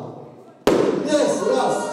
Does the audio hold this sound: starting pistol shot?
yes